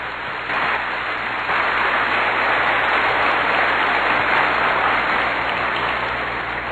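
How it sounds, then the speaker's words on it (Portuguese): A church congregation claps together after a reading at a Catholic sermon, a broad, even wash of applause that swells in after a brief start and holds steadily. "Pode aplaudir a palavra."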